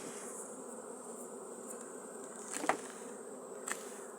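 A dense, steady drone of many Carpathian honeybees buzzing close by, unbroken throughout, with two brief knocks or clicks near the end.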